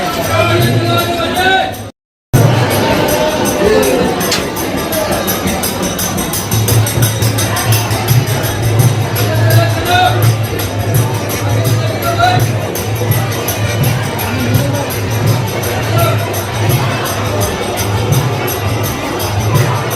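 A crowd surges and jostles at a Hindu temple as the shrine curtains open for darshan, producing a loud, continuous hubbub of many voices with a steady low rumble and no clear individual words.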